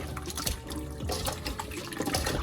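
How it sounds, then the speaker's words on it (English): Cold tap water runs steadily into a kitchen sink while turkey wings are rinsed with vinegar, a continuous close splashing trickle with no talk. "I'm using cold water again with the vinegar"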